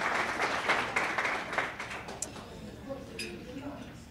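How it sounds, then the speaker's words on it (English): Round of applause from diners at an awards dinner, broad clapping in the first couple of seconds that thins and fades, with quieter room chatter after. "Let's give a round of applause for Rich and Sharon and our servers"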